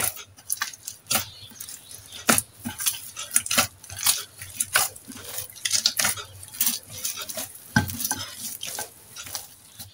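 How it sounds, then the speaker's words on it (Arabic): Wet dough being kneaded by hand in a bowl as water is added bit by bit, making steady squelching slaps and smacks, close and rhythmic, with no talking. "هنا غادي نضيف شويه ديال الماء لانني بغيتها مرخوفه، وما كنضيفوش في مره، يعني وانا كندلك وانا كنزيد في الماء"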